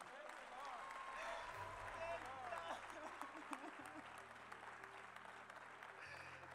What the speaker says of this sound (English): Clap your hands, somebody.